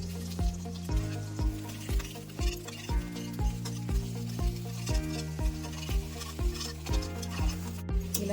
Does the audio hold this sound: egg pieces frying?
yes